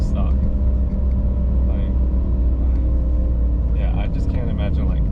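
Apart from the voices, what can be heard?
Mitsubishi Evo IV engine accelerating in third gear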